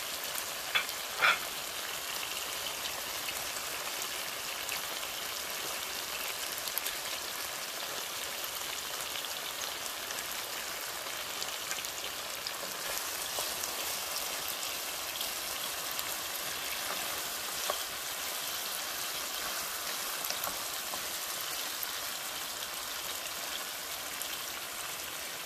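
Tomato hits a hot frying pan and sets off a steady, soft, hissing sizzle that runs evenly throughout, with a couple of small pops early on.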